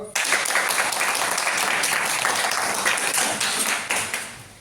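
Sustained audience applause from a crowd at a business gathering, many hands clapping densely and evenly at close range for several seconds before tapering off at the end.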